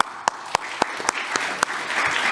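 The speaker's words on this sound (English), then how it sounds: "I appreciate the applause" Scattered, sparse claps from an audience at a Cloud First Summit session, a few distinct sharp hand claps over a soft hiss of room noise.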